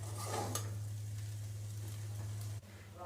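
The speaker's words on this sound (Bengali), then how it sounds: "চাউমিন আর এই সবজিগুলো একসাথে মিশিয়ে নেব।" Vegetable chow mein noodles tossed and stirred in a pan over medium heat: a soft, steady sizzle with faint scraping of the utensil, one brief clatter near the start, no talking.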